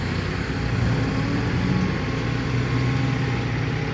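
A Doosan DX200A excavator digging a pond and loading soil runs with a steady, low diesel drone and a faint tonal hum, close and continuous throughout.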